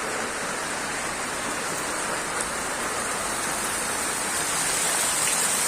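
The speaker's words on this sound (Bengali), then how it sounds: "বর্ষা পড়িতেছে" Steady rain falls as a dense, even hiss of drops that holds the same loudness throughout, swelling slightly toward the end.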